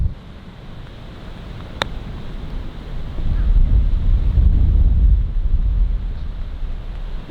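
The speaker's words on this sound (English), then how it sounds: "Man, it's windy." Wind gusting across an open golf course, a low rumbling buffet that swells in the middle and stays steady, with a brief sharp click near the start.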